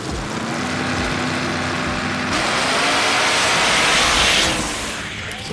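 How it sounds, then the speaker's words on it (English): Two drag racing cars, a Pontiac GTO and a Mustang, roar together in a loud, sustained engine rush that builds and swells midway before easing off toward the end, heard at a drag strip. "We've got Puff in the left lane driving that Pontiac GTO, taking on Steve from Chase Family Racing,"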